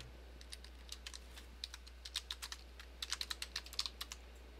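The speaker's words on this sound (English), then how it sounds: "What were you typing in the chat?" Someone types in chat on a computer keyboard, the keystrokes clear, light and close, speeding into quicker bursts over a low steady hum with no speech.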